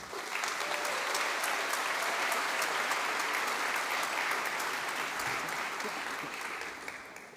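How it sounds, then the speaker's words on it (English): A large crowd at a graduation ceremony applauds, a loud, dense, even roar of clapping that continues for several seconds and tapers slightly at the end. "Can we have a huge round of applause"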